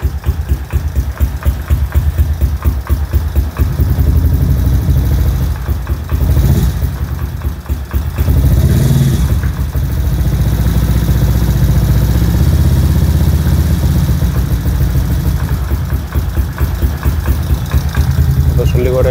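Freshly rebuilt Kawasaki ZX130 motorcycle engine runs steadily at idle with loud, close mechanical chatter and audible valve noise throughout, while voices talk over it.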